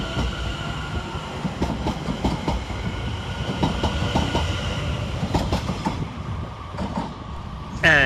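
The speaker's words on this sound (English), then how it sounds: "Next train out to depart is 710-103, working the 1921 London Overground service from Enfield Town to London" London Overground Class 710 unit 710-103 pulls out of Bethnal Green station on an Enfield Town to Liverpool Street service, its rolling rumble carrying rhythmic clickety-clack wheel beats, with a faint squeal near the end.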